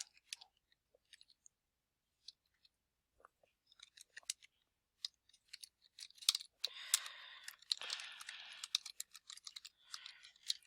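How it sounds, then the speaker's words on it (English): Close, fairly quiet typing on a computer keyboard, first as scattered single key clicks, then as quicker, denser bursts of keystrokes. "we can go ahead and type these names"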